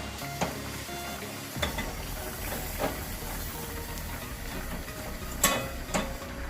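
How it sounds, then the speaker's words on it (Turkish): Flour toasting in butter in a pan for a baked macaroni sauce gives a steady close sizzle and hiss, with scattered clicks and scrapes from stirring and no talk. "Şimdi unun kokusu çıkarıncaya kadar güzelce kavuruyoruz"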